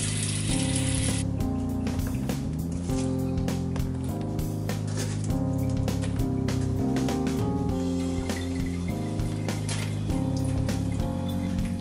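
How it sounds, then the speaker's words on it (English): Tap water runs steadily and loudly while fresh produce, including artichokes, is rinsed, a dense continuous splashing with rattles and knocks of handling underneath. "We're going to rinse and dry our produce."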